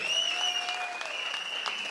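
Party members applauding at a political speech: dense, sustained clapping from a large crowd that fills the whole stretch evenly, with a faint voice and a high tone underneath.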